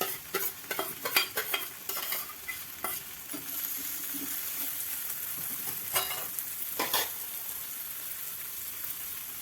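Turmeric and soaked chana dal frying in a hot pan for a radish stir-fry, with steady close sizzling broken by repeated sharp scrapes and clicks of a stirring spoon.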